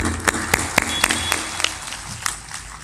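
Audience clapping during a spiritual storytelling discourse: crisp, evenly spaced claps in a steady rhythm, about four per second, over a low murmur, sounding close and fairly loud.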